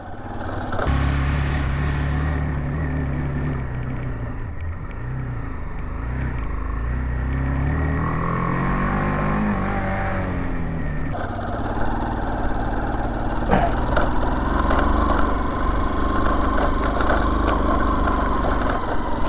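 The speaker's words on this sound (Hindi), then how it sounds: "फर्स्ट गियर में चढ़ानी पड़ रही है, बाइक बहुत ज़्यादा आवाज़ कर रही है" A motorcycle engine labours loudly in first gear on a steep hill road while riding from Kausani toward Delhi, a continuous throbbing drone with shifting pitch and rising strain throughout.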